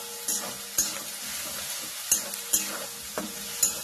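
Vegetable Manchurian mixture is stirred in a hot pan, with a bright continuous sizzle and several sharp spatula clacks and scrapes at uneven intervals, heard up close.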